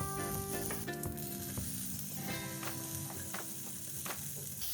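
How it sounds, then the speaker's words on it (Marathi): Sliced onions and wet grated coconut fry together in a pan on low heat, giving a steady close sizzle with occasional stirring clinks, no talking. "आता हे खोबरं ओलं भाजत असतानाच आपण ह्यात 2 कांदे लांबट चिरलेले टाकायचे"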